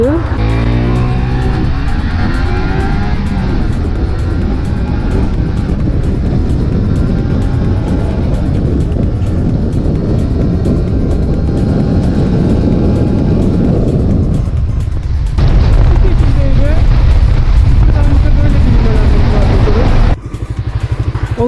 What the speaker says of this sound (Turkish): Sıfırdan 100'e kaç saniyede çıkıyor bu makinemiz?